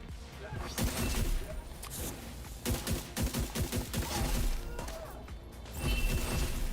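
Gunfire from a headshot with a golden bullet in The Division 2, heard as several sharp, loud shot bursts in clustered volleys over a dense game soundscape.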